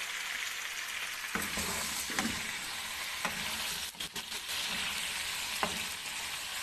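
Tomato paste and black pepper frying in a pan for chicken jalfrezi, a loud, dense sizzle with several stirring scrapes and a brief dip midway, close and continuous, with no one speaking.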